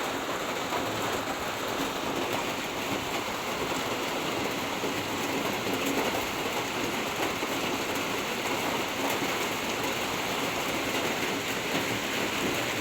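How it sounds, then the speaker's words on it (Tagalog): Heavy, unbroken rain pours down outdoors, a dense steady hiss that holds at an even level throughout with no talk over it. "talaga naman po ang ulan ay walang tigil"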